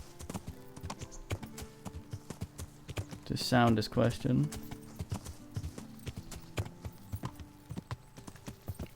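Rapid clip-clop of horse hooves from the video game Kingdom Come, galloping in a steady rhythm at moderate loudness while someone talks over it in short bursts.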